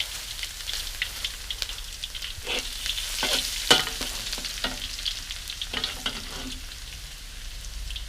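Crushed garlic frying in hot oil in a pan while being stirred for a Thai rad na dish, a continuous crackling sizzle with scraping stir strokes, close and without talk.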